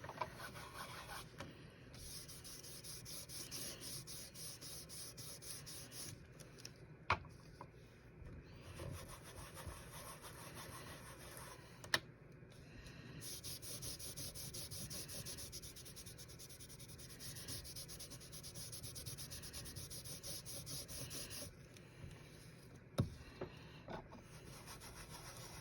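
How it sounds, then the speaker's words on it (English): An ink blending tool is rubbed across a card panel, making a soft, continuous scratchy rubbing close to the mic. Faint strokes repeat steadily for a long stretch, with a few sharp taps between them. "ink up your blending tool and rub it across your panel"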